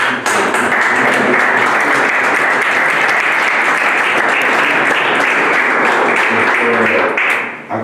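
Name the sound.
audience applause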